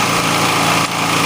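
A Generac portable generator engine runs steadily and loudly up close, a continuous buzzing drone with a brief dip near the end and no talk over it.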